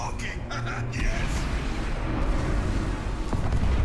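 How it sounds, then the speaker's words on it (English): In Overwatch 2, bullets striking fuel cells set off a large explosion: a loud, sustained roaring rumble that builds and holds, with a voice talking over it. "I can't believe such little bullets made that huge explosion"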